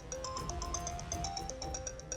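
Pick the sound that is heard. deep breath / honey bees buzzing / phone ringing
phone ringing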